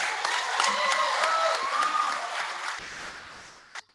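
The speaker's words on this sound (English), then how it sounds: "I think we need another round of applause for Aggie." An audience at an International Youth Day celebration claps for a young singer, a dense burst of applause with some cheering that thins out and fades near the end.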